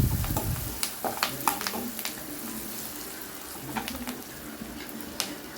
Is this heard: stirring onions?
yes